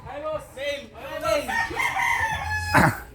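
A native chicken rooster crows close by, its long rising and falling call filling the clip, followed by a shorter squawk near the end.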